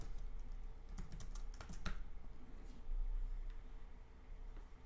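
Steady typing on a computer keyboard while entering a page title in a WordPress site editor, with close, quiet clicks in quick irregular bursts and no voices.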